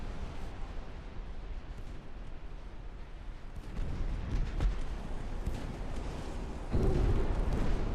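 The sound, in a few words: torpedo hits exploding on a ship in the video game Ultimate Admiral: Dreadnoughts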